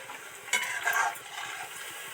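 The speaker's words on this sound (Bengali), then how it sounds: "কোপ্তাগুলো কি সুন্দর করে আস্তে আস্তে ডিপ ফ্রাই করে ভাজছি" Soya kofta balls deep frying in hot oil in a pan, a steady soft sizzle with a brief louder burst of bubbling and a faint clink of a utensil as they are turned.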